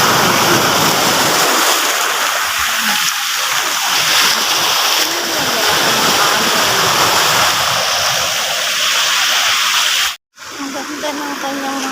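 Rushing water from a river flowing down from the mountains toward the sea, a loud continuous broadband wash close by, with a brief cut near the end.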